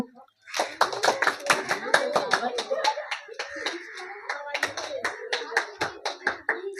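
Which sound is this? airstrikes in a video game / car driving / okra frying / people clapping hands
people clapping hands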